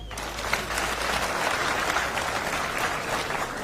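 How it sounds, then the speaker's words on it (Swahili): A crowd of Kenyatta University students at a live political meeting with Jimi Wanjigi breaks into dense, sustained clapping that fills the space evenly, with no voices over it. "Mpigie makofi."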